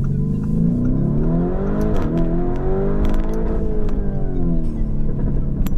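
Lamborghini Urus accelerates with a loud rising and falling engine roar, rev sweeps shifting pitch, and sharp exhaust pops crackling near the middle and toward the end, heard close from inside or beside the car.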